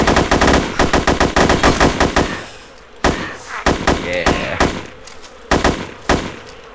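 AKM rifle gunfire in DayZ, rapid loud bursts of automatic shots up close, then shorter clusters of fire after a pause, with faint voices underneath.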